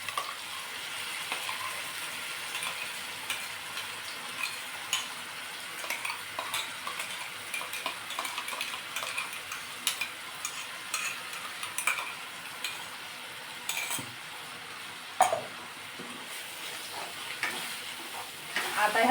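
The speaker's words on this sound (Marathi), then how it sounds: "जोपर्यंत बटर किंवा तेल सुटत नाही तोपर्यंत परतून घ्यायचा आहे" Ground tomato, garlic and ginger paste sautéing for pav bhaji, a continuous bright sizzle with frequent utensil scrapes and clinks against the pan, close by and without speech.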